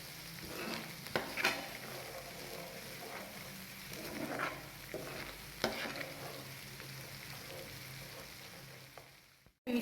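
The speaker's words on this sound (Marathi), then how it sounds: "हे वाटण आपल्याला तेल सुटेपर्यंत परतून घ्यायचे" Ground masala paste sizzles and crackles in oil in a pan over medium-low heat for spicy Kolhapuri misal, with intermittent scraping stirs over a steady fry, ending in a brief clatter.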